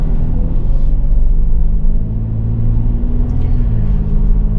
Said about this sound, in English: we're zipping down the road in this 24 4Runner TRD Sport